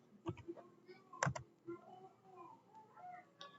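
Someone types a short terminal command on a computer keyboard in a quiet room, producing a few sharp, separate key clicks with short pauses between them.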